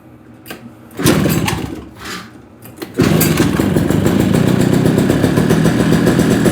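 A restored Arctic Cat Kitty Cat snowmobile engine cranks with a couple of short bursts, then catches at about three seconds and runs steadily and loudly, a buzzy small two-stroke note held close.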